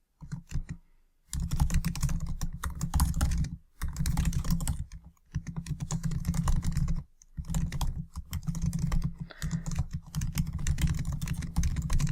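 Steady, close computer keyboard typing in long continuous runs of rapid key clicks, broken by a few short pauses.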